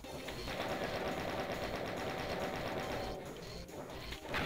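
Rapid pistol gunfire in the Half-Life map Pressure Machine, a dense stream of mechanical shots that holds steady and loud for several seconds, then briefly thins out before surging again, with no talking.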